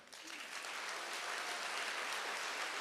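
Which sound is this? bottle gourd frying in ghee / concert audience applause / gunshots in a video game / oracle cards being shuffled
concert audience applause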